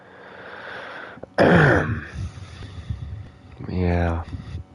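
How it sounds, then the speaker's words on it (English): Harsh bursts of coughing and throat clearing from a person, loud and close, with a raspy fit near the start and another shorter cough later, mixed with breathing and small noises. "Excuse me for all the coughing."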